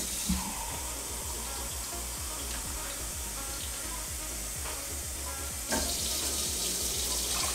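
Water running from a kitchen tap into a measuring cup while preparing lamb shank and rice, a steady splashing hiss with faint clinks, continuing throughout and growing slightly louder near the end.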